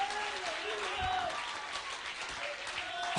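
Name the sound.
applause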